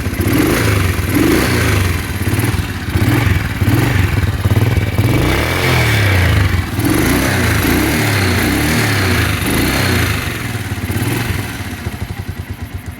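A low-priced motorcycle idling and revving after a self-start, its engine a loud, close, steady mechanical drone with rhythmic rises and dips, sputtering near the end, with no talking.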